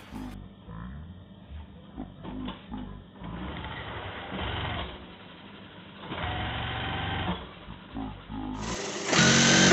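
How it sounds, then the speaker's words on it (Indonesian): A sewing machine stitches the body seam of an IAIN Pekalongan almamater jacket at the vent, whirring steadily in long runs with short stops, close and loud, with no talk over it. "Jadi pertama-tama kita jahit dulu dari tandanya yang ini ya, dikebawahin dua."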